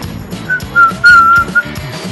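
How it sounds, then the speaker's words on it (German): A person whistles a thin, wavering tune alone in short rising phrases, loud and close, over a busy background of Trackmania Wii racing game music. "Ja, ich pfeife, ob das euch passt oder nicht."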